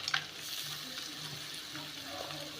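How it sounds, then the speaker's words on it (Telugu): Cashews being stirred into a pan of onion gravy with turmeric, a soft continuous sizzle with gentle scraping strokes, close and fairly quiet, no voices. "ఇలా కలుపుకోవాలి జీడిపప్పు."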